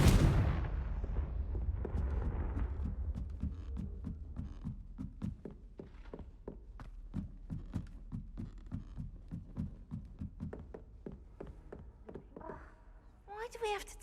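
A Confringo explosive spell cast in Hogwarts Legacy, a loud booming blast at the start that decays, followed by a steady run of light rhythmic ticks and taps.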